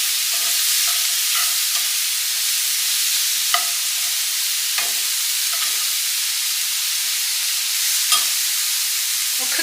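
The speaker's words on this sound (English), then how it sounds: "onions are cooking" Onions cook in a pot for zuppa toscana with a steady, close sizzle and hiss, broken now and then by soft stirring scrapes.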